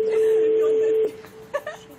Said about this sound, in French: Une sonnerie assez fébrile, là.